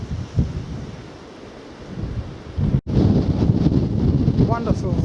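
Strong wind gusts roar across the microphone on an exposed Southwest Coast Path clifftop above Ringstead Bay near West Lulworth, a continuous loud buffeting rumble broken by one brief dropout, with a voice faintly heard near the end.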